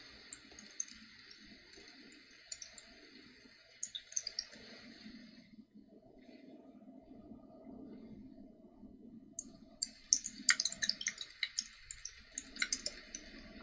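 Typing on a computer keyboard, heard as faint scattered clicks and key taps in bursts at the start and end, under a low background hum with a quiet pause in the middle.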